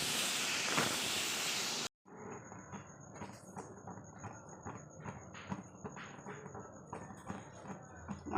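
Ghagra fish frying in hot oil, a crackling, irregular sizzle with sharp spits and pops that follows a short burst of loud noise at the start.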